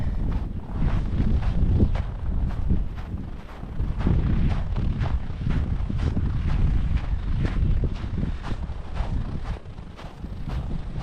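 Strong wind blowing steadily across a microphone outdoors at a marsh, a loud continuous rumbling buffet with gusty surges and no speech.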